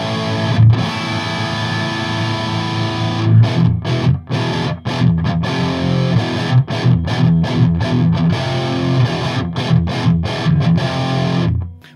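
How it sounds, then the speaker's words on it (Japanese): A Music Man John Petrucci model electric guitar plays heavily distorted chords through a Rectifier amp, loud and close, in choppy riffs broken by sharp, frequent stops and ending with an abrupt cutoff. "ちょっと歪みのサウンドもちょっと出してみましょう"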